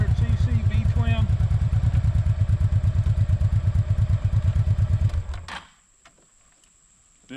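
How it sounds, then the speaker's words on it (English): Honda Pacific Coast with an 800cc V-twin engine and shaft drive: a close, loud, lumpy idle with a rapid regular pulsing beat lasting about five seconds, then shut off, leaving near-silence and a faint click. "The engine's got a little bit of get up and go to it."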